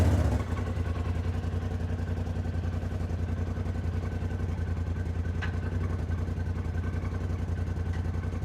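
A Polaris RZR side-by-side engine idles steadily after starting, close and fairly loud, with a low, even mechanical drone and light clatter throughout, and no talking.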